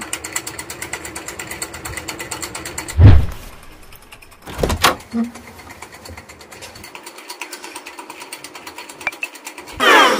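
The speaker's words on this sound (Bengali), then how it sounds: "বলছি জানলাটা একটু খোলো দাও।" A house window is pushed open, giving a mechanical sliding rattle and a couple of sharp knocks and thumps over a faint background hum, with no one speaking.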